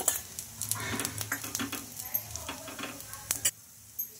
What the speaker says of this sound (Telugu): ఇలా గోల్డెన్ కలర్ వచ్చే వరకు బాగా ఫ్రై చేసుకోవాలి